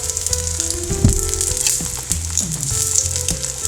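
An egg fries in a shallow layer of hot oil, giving a loud, close, continuous sizzle with bursts of spattering crackle and occasional scraping, no speech.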